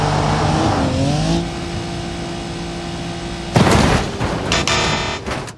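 A Land Rover Defender in the BeamNG driving game hums along with a rising engine note, then a loud crashing burst and clattering impacts follow near the end.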